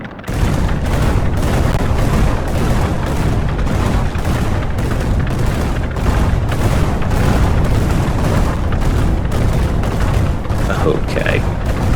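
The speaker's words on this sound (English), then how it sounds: "We have got lots of little bombs." Small bombs bursting in the Kin and Quarry video game: a loud, steady barrage of booms and crackling blasts running without pause, with a brief voice near the end.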